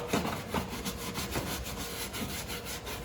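A brush scrubs a dirty car floor carpet, producing steady, close, rhythmic rasping strokes that continue without pause.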